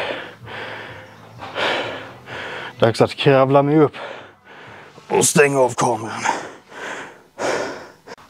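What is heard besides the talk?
heavy panting after a leg workout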